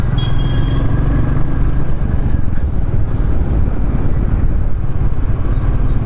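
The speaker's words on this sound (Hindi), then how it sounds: "अब आपको थोड़ा समझ में आएगा कि स्पीड में बाइक की आवाज़ कैसी आती है" A motorcycle engine drones loudly and steadily at speed, a close, continuous roar with road and wind noise blended in.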